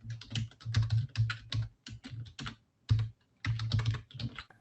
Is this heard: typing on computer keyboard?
yes